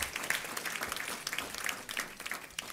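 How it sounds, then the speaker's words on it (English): Quiet, distant applause fills a school board meeting room, a steady patter of many hands clapping for a high school choir, heard faint and even throughout with no voices on top. "let's give them a round of applause"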